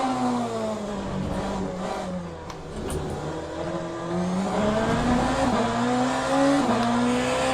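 A race car engine in Assetto Corsa Competizione at Zolder holds a loud, steady snarl, its pitch climbing and dipping through gear changes with no voices over it.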